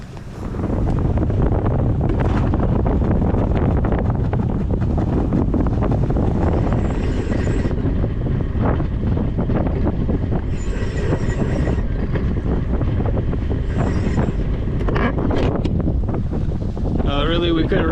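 Strong wind while sailing on the Atlantic Intracoastal Waterway near Goose Creek Canal, a loud continuous roar and buffeting across the microphone with whooshing gusts, filling the whole stretch.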